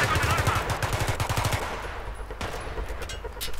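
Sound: turret machine gun fire in video game Battlefield 3

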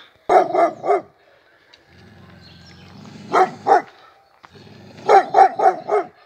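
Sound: dog barking and attacking

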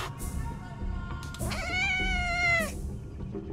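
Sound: street cat meowing and caterwauling in a video game

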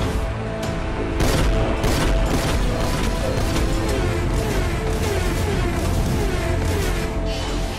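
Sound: cartoon robot car laser cannon firing

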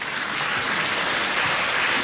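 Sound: audience applause

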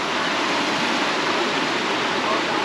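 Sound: flowing water at natural pools in Curití, Colombia

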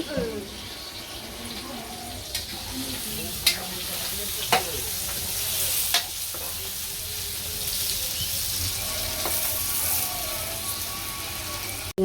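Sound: small fish frying in a pan

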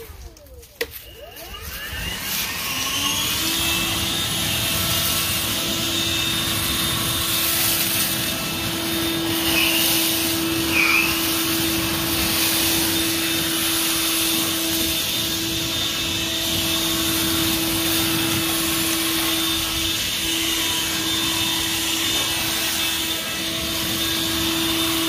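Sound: Litheli 40V brushless leaf blower running

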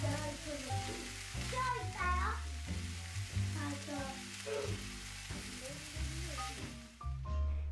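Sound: burdock root stir-frying in plenty of sesame oil

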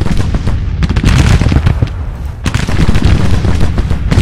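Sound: artillery fire from the video game Grand Tactician: The Civil War

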